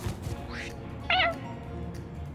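Cartoon cat meows from the video game Mewgenics, two short mewing calls over a steady game soundtrack, one faint and one louder and clearer.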